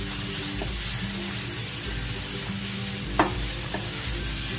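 Vegetables tossed into a hot wok for Chinese pepper steak in a ramen restaurant kitchen, a loud steady sizzling hiss with a sharp clank of the wok partway through, no talking.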